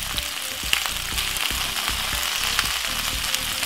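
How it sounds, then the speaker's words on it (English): Vegetables with pepper and mixed herbs stir-frying in a hot frying pan, a dense close hiss of frying with light intermittent stirring taps. "you just wanna fry up this for about 3 to 4 minutes"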